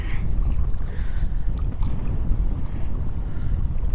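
Wind gusting at the shore during an outgoing tide, a heavy low rumbling buffet that stays loud and unbroken throughout, with no speech.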